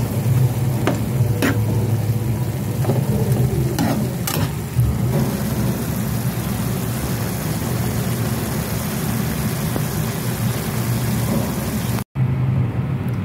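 Beef and broccoli stir-frying in a pan, a steady loud sizzle with a few sharp scraping stirs early on, continuous and close with no talking.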